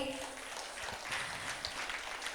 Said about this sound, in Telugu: ఆర్గనైజర్స్ అందరికీ కూడా మనం గట్టిగా చప్పట్లు కొట్టాలి